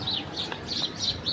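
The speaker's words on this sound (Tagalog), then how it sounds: "Ang daming ibon." Birds call outdoors in a short run of bright, high chirps repeating in quick pulses, fairly near over a soft background hiss, with no talk.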